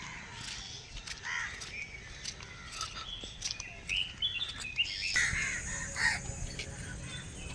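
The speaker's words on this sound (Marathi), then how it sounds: "पक्ष्यांचा आवाज तुम्ही ऐकलाच असेल याच्या अगोदर" Several birds call and caw in short bursts over a steady outdoor background hum at a beach, some calls sharp and nearby, others fainter.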